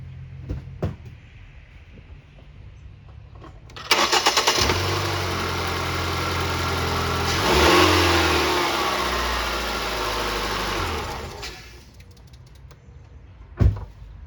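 A 2011 Ford Fusion with a freshly changed accessory belt cranks and starts, then idles and revs up and back down for several seconds before shutting off, loud and close with no squeal.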